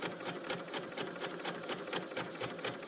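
A Bernina L890 sewing machine stitching quilt binding through a 36mm binding attachment, running fast and steady with a rapid, even mechanical pulse throughout, close and alone.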